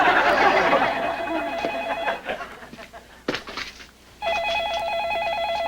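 A telephone rings with a repeating electronic warble, loud at first, broken by a stretch of clattering background noise, then ringing again at full volume.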